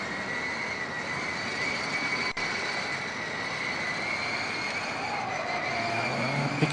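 A Formula Student race car from UPC Eco Racing circles the skidpad, its engine a steady high whine heard from a distance that eases slightly as the throttle comes off.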